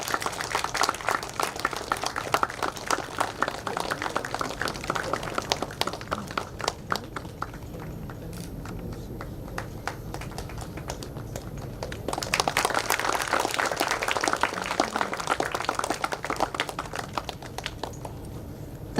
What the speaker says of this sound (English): Please have a huge round of applause.